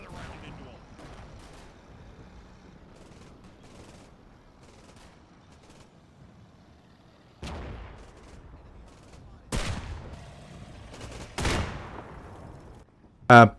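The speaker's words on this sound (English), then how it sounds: "You're also seeing at the chateau you've got the anti-tank guns firing out as well." Anti-tank guns firing in the Combat Mission war game, heard as a few sharp, loud reports spaced several seconds apart over a quiet low background, the last blast the strongest.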